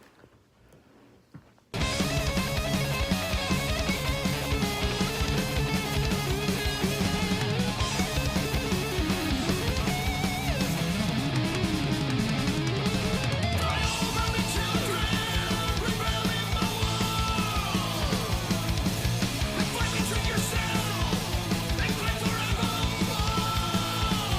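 A loud, dense traditional heavy metal song plays with driving guitars, pounding drums and a shouted vocal line after a brief quiet start.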